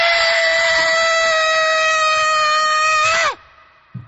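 A man lets out a loud, sustained redneck-style scream, a steady high-pitched wavering yell lasting about three seconds before cutting off sharply, followed by a brief faint thump.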